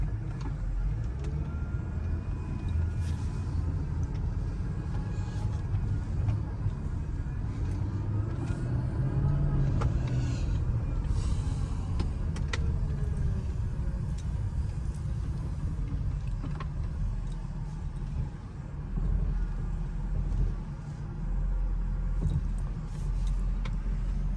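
A 2004 Mercedes SL500 with a coilover conversion cruises on the road, its steady engine and road rumble filling the cabin with a continuous low drone that swells slightly midway, with no talk.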